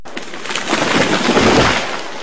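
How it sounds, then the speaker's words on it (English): A tree falling: a broad, noisy crash of splintering and rushing branches that swells over about a second and then eases off into a rumbling wash, loud and close. "That was the sound of a tree falling."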